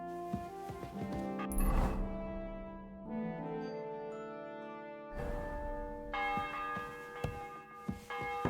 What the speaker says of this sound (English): The 11th toll of the bell. The last before the execution starts.